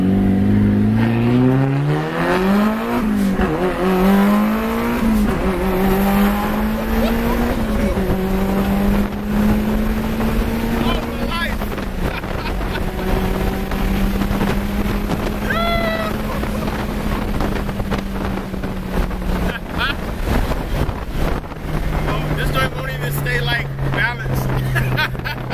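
An 800+ hp Mitsubishi Evo 8 revs hard during a ride-along, its engine note climbing and shifting through gears under constant wind roar, loud and close inside the cabin with voices over it.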